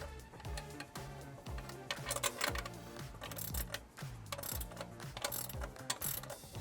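A ratchet wrench on a trailer setup clicks in quick, regular bursts of sharp mechanical ticks, close and clear with no talking.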